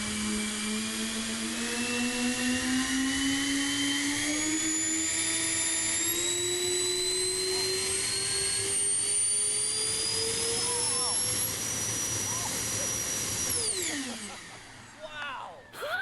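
A self-built electric drone airplane producing 52 pounds of thrust on a 40-pound airframe whines loudly and steadily, its motor pitch rising gradually for about thirteen seconds before sweeping down sharply as it throttles back or passes.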